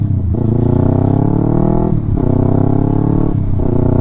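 Close, loud Yamaha R3 fitted with a full Akrapovic exhaust accelerating hard, its revs rising and dropping in three quick gear-shift cycles with no talk.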